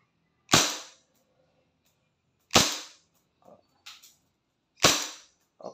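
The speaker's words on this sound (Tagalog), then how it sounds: "Okay, so rapid fire testing naman tayo." Three sharp airsoft shots ring out from a silver WE M-92 Beretta-style pistol, each loud crack about two seconds apart, with faint clicks and small knocks in between.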